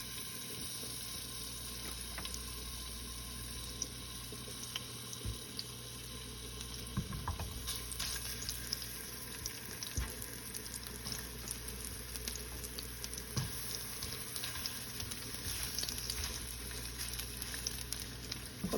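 Onions sautéing in a pan, giving a steady, moderately loud sizzle and crackle throughout, with no talking.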